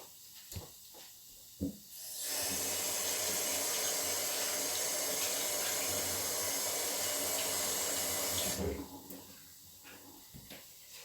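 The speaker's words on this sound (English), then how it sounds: "I'm gonna rinse these right now." Tap water runs steadily for about six seconds as vegetables such as zucchini and cherry tomatoes are rinsed, a loud even rush that starts and stops abruptly, with a few faint clatters before and after.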